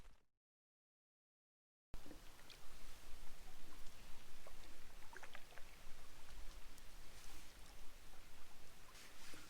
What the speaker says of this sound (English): ended up raining all day.